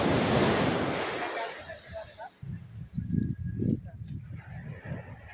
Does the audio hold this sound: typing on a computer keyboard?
no